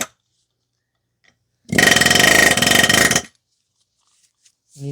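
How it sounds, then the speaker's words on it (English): An air hammer drives a corroded rear differential mount bushing out of a soft aluminum mount on a 2015 Toyota Sienna 3.5 V6 AWD, one loud rapid rattling burst lasting about a second and a half, close up, between silences. "we're probably just going to use an air hammer to drive it out"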